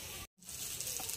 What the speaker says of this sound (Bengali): আলু ফুলকপিতে মশলা দিয়ে কষানো হচ্ছে